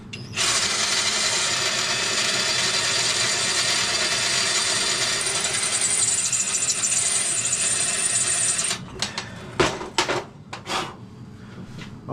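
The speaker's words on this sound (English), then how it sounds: "Right, I'm going to drill that out" A power drill whines steadily and loudly for about eight seconds while drilling out a bolt stump during motorbike exhaust removal, then stops, followed by a few short bursts and clanks of metal.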